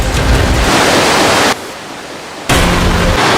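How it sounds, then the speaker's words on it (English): A river rushes through a cave in a steady, loud wash of broadband noise that cuts out briefly partway through before resuming. "You think you could make it through the river?"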